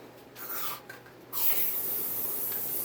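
A short hiss from a leaking aerosol can, then a louder continuous spraying hiss that keeps going to the end, close to the microphone.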